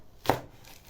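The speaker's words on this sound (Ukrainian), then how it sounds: "І цибуля ріжеться." A knife makes a single crisp chop through an onion on a board, short and close, with no voices.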